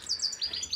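Goldfinches in an outdoor aviary chirp in quick, thin high twitters, a run of short bright notes repeating close by against a quiet background.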